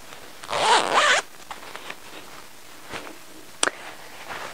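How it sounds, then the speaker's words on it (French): A zipper from a sewing kit is pulled in one quick, loud rasping stroke lasting under a second, followed by faint handling noises and a brief click. "vous allez apprendre à poser une fermeture à glissière"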